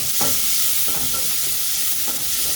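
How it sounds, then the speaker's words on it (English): Onions frying in cooking oil in a pan as they are stirred, part of making a potato egg pancake: a constant, fairly loud sizzle with periodic scraping strokes from the stirring and no talking. "Add onions and stir."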